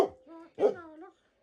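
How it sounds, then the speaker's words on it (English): A couple of short dog yelps or barks ring out close by, with a whiny tonal quality, followed by silence. "I'm going to calm my dogs down now"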